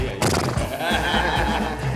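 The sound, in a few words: horse neighing sound effect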